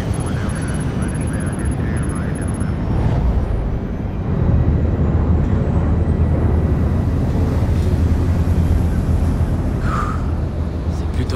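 Steady low airplane engine drone inside an aircraft cabin in the stealth game Splinter Cell Blacklist, a continuous broadband hum that holds throughout, with voices talking over it.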